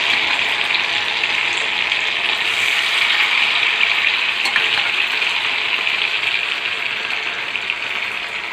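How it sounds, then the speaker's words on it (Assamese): Paneer pieces fry in hot oil in a kadai, producing a continuous, close, even sizzle with a few faint clicks and no talking. "পনীৰখিনি ব্ৰাউন কালাৰ নোহোৱালৈকে ফ্ৰাই কৰিব।"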